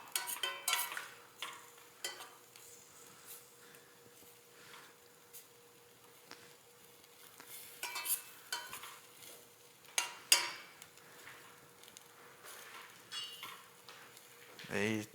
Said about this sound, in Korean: 이 짤가당거리는 소리가 최대한 안 나게 하고 싶은데 이 쇠랑 쇠가 부딪히니까 안 나게 하기가 조금 힘드네요